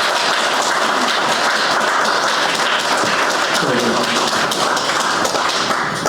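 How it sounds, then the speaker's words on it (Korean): An audience at a book launch event gives Bishop Kim Seong-su a loud, sustained round of applause, dense clapping that fills the room evenly throughout with faint voices mixed underneath. "김성수 주교님께 큰 박수 좀"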